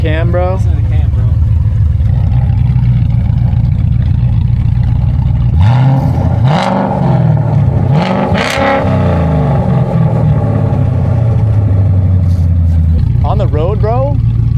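A straight-piped Infiniti Q50 with a ghost cam idles loudly and lopes unevenly, then revs up and settles back mid-clip. Voices talk over the engine near the start and end.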